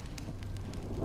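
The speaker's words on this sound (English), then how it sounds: "When will this rain ever stop?" Steady rain falling in the video game Honkai Star Rail, a soft, even hiss with faint patter and a low rumbling undertone, heard alone.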